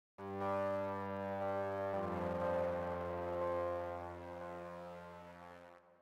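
A sustained, harmonically rich patch on an Arturia MiniFreak synthesizer, one long droning note that shifts timbre partway through and slowly fades over about six seconds, heard alone.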